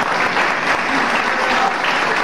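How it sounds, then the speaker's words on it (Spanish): Dense, steady applause from a crowd at a quinceañera celebration, loud and continuous throughout with no pauses. "Aplausos más fuertes."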